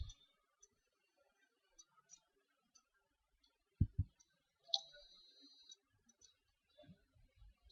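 Faint, sparse computer mouse clicks at a desk during web layout work, with a couple of sharper, louder clicks in the middle and a quiet gap-filled background.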